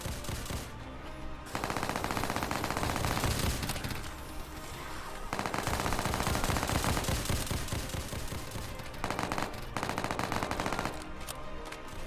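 Loud automatic gunfire in a Roblox zombie-school survival game, fired in long rapid bursts with a few brief pauses between them, dense and continuous with no talking.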